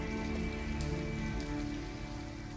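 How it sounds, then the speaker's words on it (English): Steady rain pours in the video game Detroit: Become Human, a dense, loud, continuous hiss of drops hitting surfaces with no voices over it. "I need to find somewhere where we're not going to get rained on."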